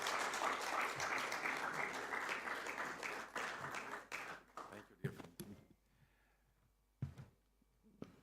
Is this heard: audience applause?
yes